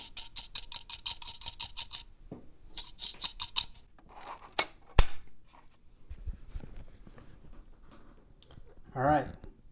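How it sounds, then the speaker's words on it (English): Gold fines being scraped during a final cleanout after a Colorado prospecting trip: a run of rapid, dry scratching strokes, then scattered clicks and a few sharp taps, fairly close and moderately quiet. "I'm going to scrape the rest of these fines."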